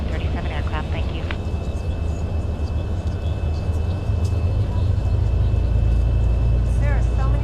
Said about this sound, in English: Let's go ahead and get our number 1 engine started up.